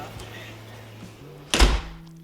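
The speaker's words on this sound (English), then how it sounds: "Let me close the door." A door in a living room swings shut with a single solid thunk near the end, after a quiet stretch with low room hum.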